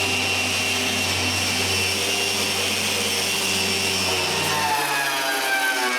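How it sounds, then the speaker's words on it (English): A power sander works over the exterior of a small wooden workbench built for making bamboo bicycles, giving a loud, continuous, close whine that shifts in pitch near the end. "I can continue working on the rest of the workbench, like sanding all the exterior"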